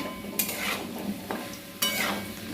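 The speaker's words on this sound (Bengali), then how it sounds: "হালকা করে ভেজে নিলাম আলুগুলো" Potatoes frying lightly in a pan of oil, an even close sizzle punctuated by two sharp scraping stirs of a spatula against the metal.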